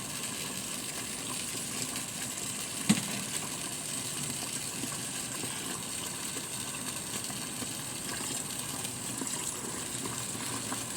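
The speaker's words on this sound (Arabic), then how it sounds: "ونسيب عليه الميه وكل شويه نصفيه لحد ما الميه تجري عندنا نظيفه خالص" Tap water runs steadily over soaked wheat being rinsed, a constant close gushing rush with one brief knock partway through and no voices.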